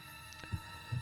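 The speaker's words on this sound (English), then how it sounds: "the heartbeat sound means that he's somehow grasping her in" Heartbeat sound effect in Tomb Raider: The Angel of Darkness, two soft, low thumps about half a second apart over a constant background hum.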